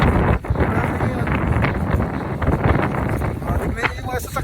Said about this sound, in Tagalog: Ang lakas ng hangin at saka snow.